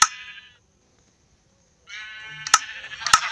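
A video game sheep gives harmonic bleats, one short call, then a pause, then a longer bleat cut through by sharp clicks.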